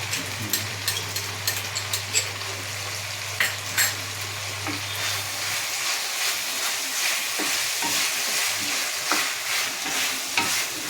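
Raw banana curry sautéing in a pan with coconut paste, a steady near sizzle broken by frequent scraping stirs of a spoon, with a low hum in the first half.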